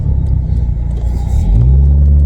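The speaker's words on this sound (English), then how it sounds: "It's changing gear very smoothly right now, though." An abandoned Volkswagen Vento being driven, its engine a low steady rumble that drops briefly, then settles into a louder, deeper drone as it shifts gear.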